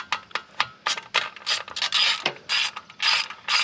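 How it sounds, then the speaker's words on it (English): Hex bolts being worked loose with a hand tool on a 2024 Kawasaki ZX6R 636 motorcycle during a slip-on exhaust install, giving a close series of short ratcheting clicks and metallic scrapes in irregular bursts, with no talking. "I'm going to take these bolts out to get a better access to it."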